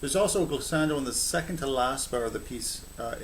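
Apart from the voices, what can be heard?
None of the usual background noises is heard.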